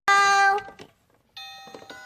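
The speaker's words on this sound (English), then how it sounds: "Somebody's ringing the bell." A toy-house doorbell rings twice, a bright chiming tone that sounds loud and close, fades, then returns after a short pause with faint clicks around it.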